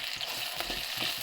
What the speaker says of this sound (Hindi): सब्जी में तड़का लग रहा है